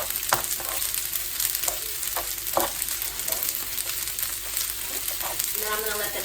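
Okonomiyaki with bacon fries on a hot griddle, giving a continuous close sizzle with occasional scraping clicks of a spatula and a brief voice near the end.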